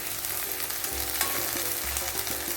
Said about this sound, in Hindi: तो अच्छी तरह मसाला को अभी भून लेते हैं।